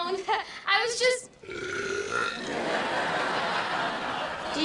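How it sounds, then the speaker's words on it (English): A long, rough belch from a cartoon character follows a few quick laughing or speaking sounds, then fades into a steady low rumble that lasts several seconds. "Did you just stress belch?"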